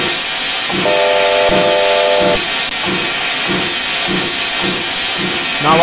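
A JA Class steam locomotive in a train simulator game hisses loudly and continuously with steam, under a brief steady whistle tone and a regular chuffing rhythm, close and alone without talk.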